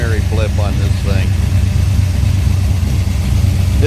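A Pontiac 455 Ram Air V8 runs on an engine stand, rumbling at a loud, close, lumpy idle throughout while someone talks over it.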